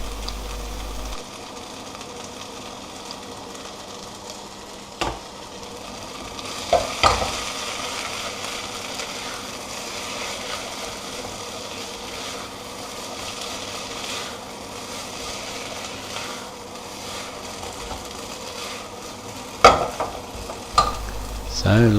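Tomato puree being stirred and cooked down in a pan, a soft steady sizzle with scraping spoon strokes throughout and a few sharper clicks of utensil against pan near the start and end.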